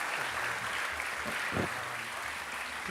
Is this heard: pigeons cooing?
no